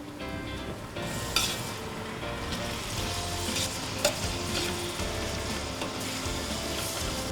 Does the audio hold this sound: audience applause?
no